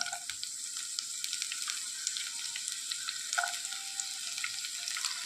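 Green chillies fry in a pan, with a steady close sizzle and crackle plus occasional stirring scrapes, with no talking.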